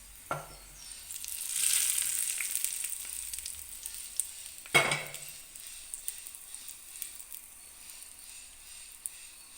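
Hot tempering poured into Rayalaseema-style red chilli chutney gives a sharp hiss that swells, then settles into a steady sizzle. A second splash-like burst follows partway through, and no one talks.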